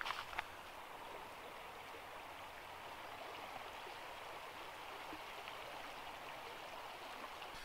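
A creek swollen after heavy rainfall rushes steadily, a continuous broadband roar of flowing water heard at a modest distance with no voices.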